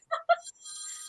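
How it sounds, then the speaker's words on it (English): A mobile phone ringtone goes off during a wrestling show review, a brief melodic chirp sounding twice and then holding a sustained tone, faint and alone. "I'm sorry, that was my phone, ladies and gentlemen."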